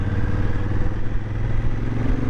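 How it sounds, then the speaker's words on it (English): A Honda Africa Twin motorcycle engine and exhaust drone steadily at close range, a continuous low throbbing with a slight burbling texture and no clear revving. "that noise of that engine and the exhaust, when you let off it just gargles and gargles for days"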